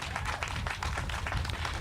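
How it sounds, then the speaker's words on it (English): A crowd at a Houston Juneteenth celebration announcement gives a brief round of applause, dense and steady for under two seconds, with scattered claps and cheering blending into a loud wash. "Give me a round of applause."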